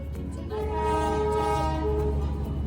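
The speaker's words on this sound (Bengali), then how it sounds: "Toy train, toy train." A Darjeeling toy train's diesel engine sounds a sustained horn, loud and close, its steady tones holding over the low rumble of the locomotive throughout.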